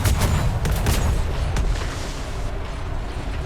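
Ship cannons in the Atlas video game fire at an island in a rapid fusillade of booming blasts. The volley is loud and dense at first, then rumbles on steadily with no talking.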